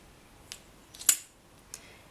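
Scissors snip away part of a brooch piece, three quiet, crisp snips spaced about half a second apart, the middle one loudest, against near silence.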